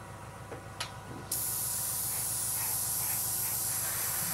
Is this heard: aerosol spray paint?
yes